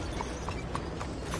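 Horse hooves in the video game Red Dead Redemption 2, a steady, evenly spaced clip-clop of about five soft hoof strikes, faint and slightly distant over a low, constant background rumble, with no talking.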